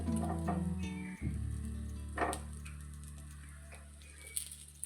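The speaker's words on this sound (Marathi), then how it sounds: "आता हे आपण पलटवून घ्यायचं आहे याला चांगलं शेकून घ्यायचं" Kolhapuri khandoli being flipped and roasted in a pan, giving a steady, close sizzle with a few brief clatters as the pieces are turned.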